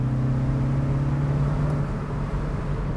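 A 2016 Mini Cooper S Cabriolet cruising on B roads, its engine a steady low drone with constant road rumble from inside the cabin, unbroken and fairly loud.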